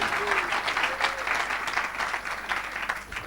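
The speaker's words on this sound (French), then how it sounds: "Acclame! Donnez gloire à Jésus dans ce lieu" Applause from a church congregation at a gospel gathering, dense steady clapping filling the space throughout with a faint hum underneath, no clear talk over it.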